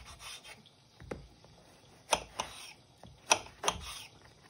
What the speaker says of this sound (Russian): Нарезаю крупным кубиком,